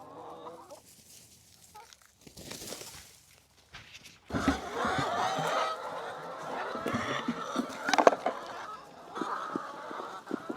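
Farm chickens clucking and squawking, starting sparse and quiet, then a denser burst of overlapping clucks and calls from several birds at close range, with one louder squawk near the middle.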